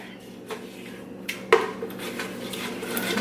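Gumbo roux stirred in a pot for a chicken, shrimp, andouille sausage and crab gumbo: a spoon scrapes and knocks against the pot in scattered strokes, with one sharper clank midway, close and moderately quiet.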